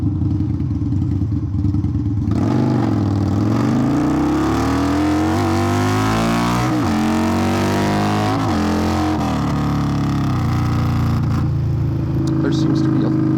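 A 2021 Indian Scout motorcycle fitted with a Hacker Mayhem exhaust idles with a deep rumble, then revs in a few rising and falling sweeps before settling back to a loud, steady idle close by.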